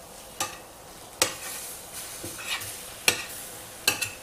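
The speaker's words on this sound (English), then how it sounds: "It's a stainless steel pan, there's nothing in it, just the ground beef. And I'm just going to break it up a bit" Ground beef sizzles in a stainless steel pan, broken up with a utensil that scrapes and knocks against the metal in several sharp, irregular strikes over a steady, close hiss.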